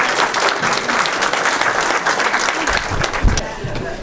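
An audience applauds at an evening financial aid information session, a dense, steady clapping that lasts the whole few seconds with a few louder claps near the end.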